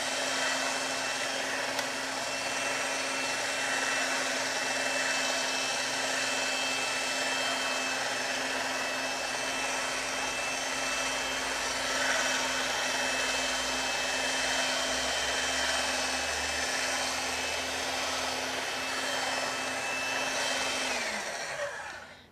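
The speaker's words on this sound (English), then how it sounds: "So I'll move my pasta machine over here and roll out that paste so we get a nice" A motorized pasta machine rolls out sugar paste with a steady, loud motor hum that runs continuously for about twenty seconds before stopping abruptly, with no voices.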